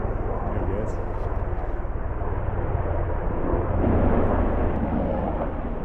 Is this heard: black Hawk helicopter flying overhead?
yes